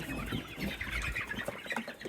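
Hens cluck and chatter continuously at close range, a busy overlapping flock sound with no talking.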